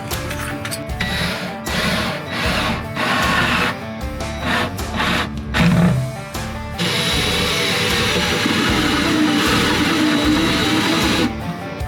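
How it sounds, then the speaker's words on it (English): A power drill whirs steadily as it bores lengthwise through a kitchen handle for a van build, starting in short stop-start bursts and then settling into one long, loud continuous run. "They have to be drilled from one end to the other."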